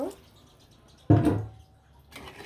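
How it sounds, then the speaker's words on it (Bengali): A short burst of water pouring into a pot of chicken and potatoes for about half a second, then quiet with faint background noise. "আলুগুলো দিয়ে কিন্তু পরিমাণ মতো এখানে পানি দিয়ে দিব"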